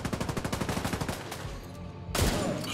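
Sniper rifle shots in a video game sound as a rapid, rhythmic train of sharp gunfire bursts, followed by a brief lull and one heavier blast near the end.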